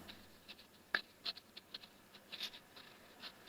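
Faint pen strokes scratch across paper as math factors are written out by hand, forming short, irregular taps and scrapes in a quiet room.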